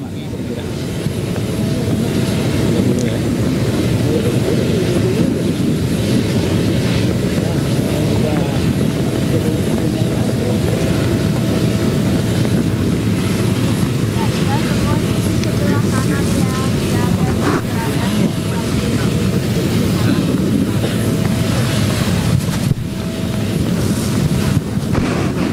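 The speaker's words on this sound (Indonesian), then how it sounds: "Pesawat Kepresidenan Republik Indonesia sudah tiba di Bandara Halim Perdana Kusuma" Indonesia's presidential aircraft arriving at Halim Perdanakusuma airport in Jakarta, a loud continuous engine roar with wind buffeting that holds steady throughout, recorded close on the tarmac.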